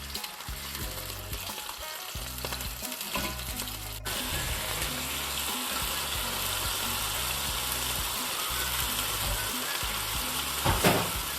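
A chicken fillet fries in an uncrowded pan with a dense, continuous sizzle that swells louder partway through and holds steady, close up and with no talking.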